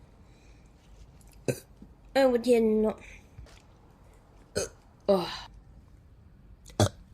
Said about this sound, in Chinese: 我操，一直打嗝，错过一些重要的消息